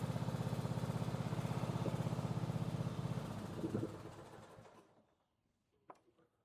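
A Simplicity garden tractor's small engine runs with a rapid, even chugging close by, then winds down and stops, leaving near silence with a single faint knock.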